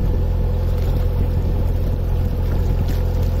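A narrowboat engine chugs steadily while cruising along the Great Ouse relief channel on an evening, a constant low rumble close by with light water wash and no talking.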